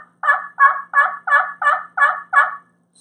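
Seven evenly spaced yelps drawn from a slate pot call imitating a hen turkey, each a short rasping note in a steady rhythm, close and clear with no voices.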